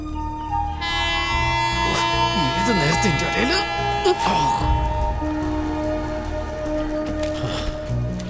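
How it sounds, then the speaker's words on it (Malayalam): A train pulls out of a station, its deep rumble and rolling clatter running throughout, with a horn sounding and screeching metallic squeals in the middle, under agitated voices. "ഈശ്വര, ട്രെയിൻ വിട്ടല്ലോ."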